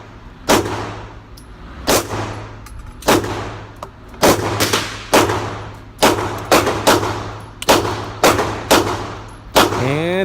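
Handgun firing a mix of FMJ and jacketed hollow point rounds, about a dozen loud, sharp shots with ringing metallic tails, spaced irregularly with some quick doubles, close to the microphone.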